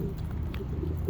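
Pigeons cooing in a backyard bird aviary, soft low rounded coos repeating steadily at close range over a constant background hum, with faint chirps now and then.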